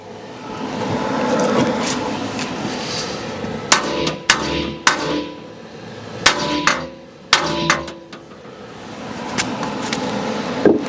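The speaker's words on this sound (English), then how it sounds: "hammer." Hammer blows ring out on the build of a wood-fired outdoor oven, a run of sharp, close strikes coming in uneven clusters over steady background noise, with no talking.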